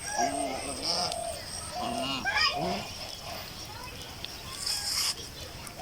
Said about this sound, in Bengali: দেখুন কত বড় হাঁস